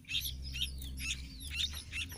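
High, thin chirps from sooty-headed bulbul chicks repeat in quick bursts, close and clear, over a low steady hum.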